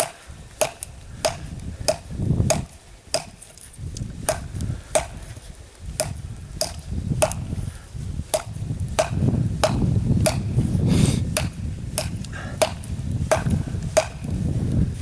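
A Kubey Sicario survival knife with D2 steel strikes hard petrified aspen wood in a steady series of sharp, ringing chops, about one or two per second, close up over a low background rumble.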